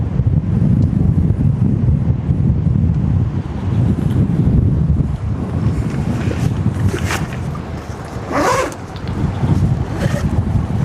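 Strong gusting wind buffets the microphone at a shoreline along the Westerschelde estuary in the Netherlands, a steady loud roar with rumbling low-end bursts throughout, and no voices.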